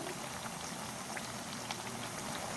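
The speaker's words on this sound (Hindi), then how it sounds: "अब मीडियम फ्लेम पर फ्राई करेंगे, जैसे अच्छा सा कलर आएगा फिर हम निकाल लेंगे।" Potato fritters (aloo pakoras) frying in oil over a medium flame, a steady close hiss and crackle of bubbling oil with fine pops throughout, no voices.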